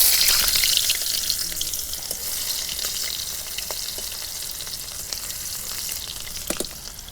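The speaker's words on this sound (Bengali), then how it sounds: "তেল গরম হচ্ছে, পেঁয়াজ কুচি দিয়ে দিলাম" Chopped onions drop into hot oil for a fish and potato dish and fry with a loud, hissing sizzle that is strongest at first and then settles to a steady crackle, with a few faint clicks near the end.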